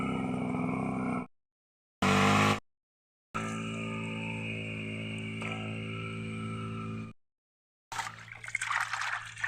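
Water poured and splashing while korameenu fish are cleaned, several bursts of running, trickling water separated by silences, close and moderately loud.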